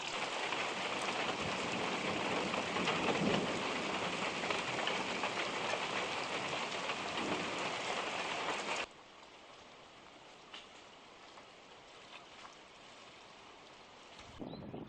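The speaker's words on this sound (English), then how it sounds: "watched the thunderstorm roll by" Steady, heavy rain from a thunderstorm pours for several seconds, then abruptly drops to a much quieter patter with occasional drips; no thunder is distinct.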